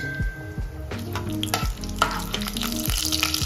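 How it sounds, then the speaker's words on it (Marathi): Whole spices, bay leaf, black cardamom and cinnamon, fry in a kadhai for a dhaba-style shev bhaji, giving a steady close sizzle broken by several clanks and scrapes of a utensil against the pan, with no talking. "तर हे खडे मसाले पहिले चांगले फ्राय करून घ्यायचे।"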